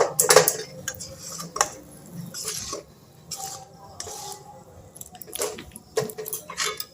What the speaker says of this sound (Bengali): ভালোভাবে মিশিয়ে নেব